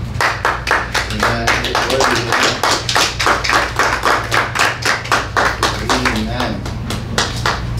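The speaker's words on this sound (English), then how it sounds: "Give the Lord a clap offering" A church congregation claps together as an offering to the Lord, a steady rhythmic run of many close hand claps with an underlying hum and voices faintly mixed in.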